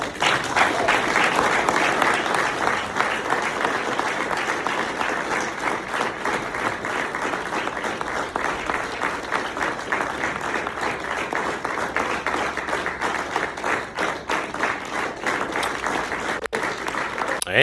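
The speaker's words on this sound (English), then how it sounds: "I ain't gonna lie, them some long claps." Sustained applause from a large audience fills the whole stretch, a dense, steady wash of clapping that stays loud and even for well over fifteen seconds before thinning at the end.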